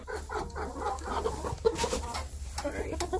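Hens clucking and murmuring close by in a pasture poultry tractor during egg collection, a busy overlapping chatter of short calls with brief louder squawks.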